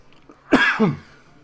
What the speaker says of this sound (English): So I'm coughing a lot.